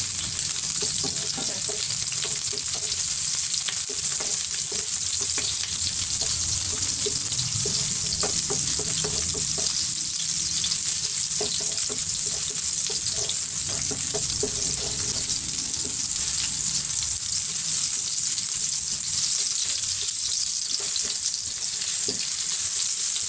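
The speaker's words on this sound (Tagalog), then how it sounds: "Dahil igigisa natin yung ating bawang, sibuyas, tsaka yung ginger." Garlic, onion and ginger sautéing in oil for a crab coconut stew: a loud, continuous close sizzle with faint intermittent stirring clicks and no voices.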